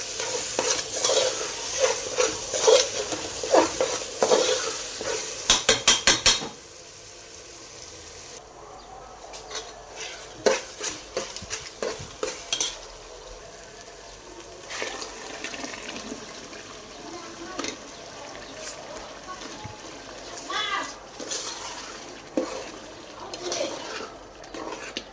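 Onions with sugar frying and stirred in a pot, with a loud sizzle and scraping for the first several seconds, then softer intermittent stirring and bubbling with bursts of clatter.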